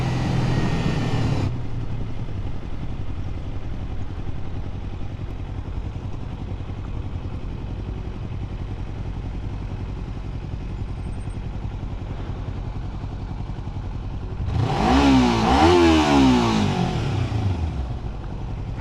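Kawasaki Ninja 300 motorcycle being ridden, a steady engine drone under wind noise throughout, with a louder revving rise and falling gear changes near the end.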